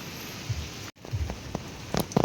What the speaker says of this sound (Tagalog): Pero wala pa rin tigil yung ulan.